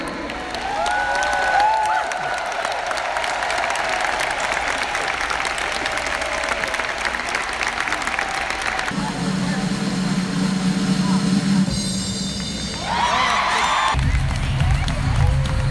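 Applause and cheering from a large crowd at a sales conference in Orlando, Florida, recognizing achievers, a continuous roar of clapping and shouting with a brief whistle early on and shifting tones partway through.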